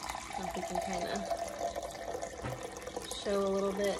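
Water pours from a Berkey filter into a cup, a soft, steady trickle that is partly masked by a person talking. Near the end the stream runs louder and fuller as the cup fills.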